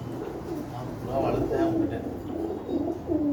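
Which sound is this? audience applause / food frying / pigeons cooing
pigeons cooing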